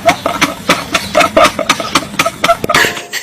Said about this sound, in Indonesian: Biasa motor.